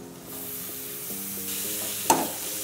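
Paneer slices are stirred with shahi paneer masala, curry powder and salt in a hot pan, giving a soft scraping stir over a gentle sizzle, with a sharp utensil tap near the end.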